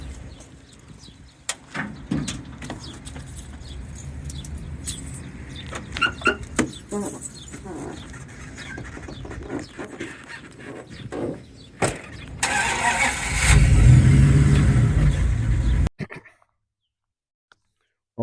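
A pickup truck sits amid clicks and handling noises with soft whispered talk, then its engine fires into a loud, rough rumble for a few seconds before cutting to silence.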